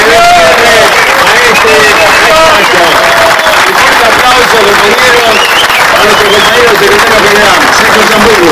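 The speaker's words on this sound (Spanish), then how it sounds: "Para él pido un fuerte aplauso" Loud, sustained applause from a large union crowd at a CGT gathering honoring the general secretary, dense clapping with cheers and voices layered throughout.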